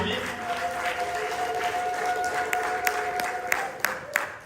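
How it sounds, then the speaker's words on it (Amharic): A church congregation applauds during an Easter resurrection sermon, steady crowd clapping with scattered sharper claps and a sustained high ululation-like tone running beneath, fairly close and continuous throughout. "እልልታ ጭብጨባ ለእሱ ይሁን"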